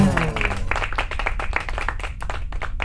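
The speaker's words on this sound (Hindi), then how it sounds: "जोरदार तालियां हो जाए बिट्टू और मुन्नी के लिए।" An audience applauds performers on a stage show with brisk, fairly loud clapping right after a brief tonal sound at the start. The clapping continues with distinct individual claps audible for a few seconds.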